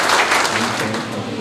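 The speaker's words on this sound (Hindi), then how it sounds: "एक बार ताली बजा" Audience clapping at a grand Holi celebration gathering devoted to Mithila culture, a dense, steady burst of applause lasting a moment, with faint voices mixed in.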